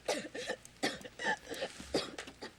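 A person in a film scene about tuberculosis coughs repeatedly, several harsh, wet coughs in quick bursts with short gaps, close and clear, with a little throat clearing between them.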